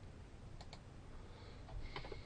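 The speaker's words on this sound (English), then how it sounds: "So I'll type in 18 and press enter." Button presses on a TI-83/84 calculator while entering data, a few faint, soft clicks over low background noise with no talking.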